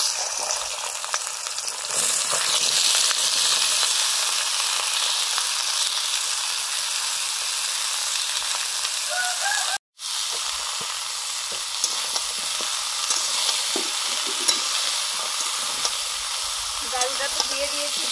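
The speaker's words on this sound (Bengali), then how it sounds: "বাকি সবজিগুলো ভেজে নিচ্ছি" Mixed vegetables frying in a pan for a dal and vegetable curry, giving a loud, steady sizzle with occasional stirring scrapes, broken by a brief moment of silence midway.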